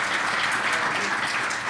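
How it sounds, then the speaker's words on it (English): An audience at a commercial space age panel gives a dense, even round of applause, steady and moderately loud from start to end, with no talk over it. "I want to ask you please for a round of applause for the panel here."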